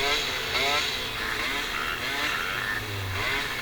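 A fouled-plug moped engine revs and buzzes in waves, rising and falling several times at moderate distance beneath steady wind and background noise.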